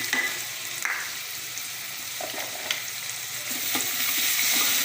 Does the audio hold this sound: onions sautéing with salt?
yes